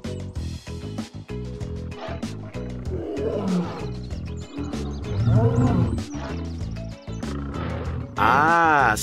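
A lion roars repeatedly in a Korean children's educational cartoon, loud and close over a bouncy music backing. A short high whinny-like cry comes near the end.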